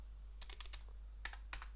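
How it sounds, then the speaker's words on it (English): Someone types a bash wrapper script on a computer keyboard while editing a file on Debian 12 Linux, heard as two quick bursts of crisp key clicks with a short pause between them, close up and alone over a low hum. "start editing it by typing the bash wrapper"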